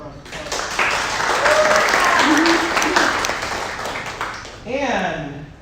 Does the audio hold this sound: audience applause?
yes